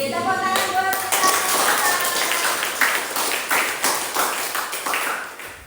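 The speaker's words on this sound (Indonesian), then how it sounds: "Tepuk tangan buat kita" Classroom of students at a vocational school clapping together, a steady run of fairly loud, close hand claps with a rhythmic pulse throughout, voices mixed faintly underneath.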